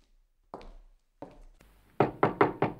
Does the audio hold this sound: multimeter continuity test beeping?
no